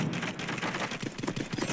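Rapid pistol shots in the mobile shooter Call of Duty Mobile, a quick dense string of sharp cracks fired close up, loud and alone for under two seconds.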